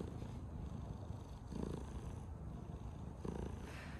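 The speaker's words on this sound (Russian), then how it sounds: "Наконец-то мурчит. Слышите?" A cat purrs softly and steadily up close, a low rhythmic rumble with a few brief rustles, no voices.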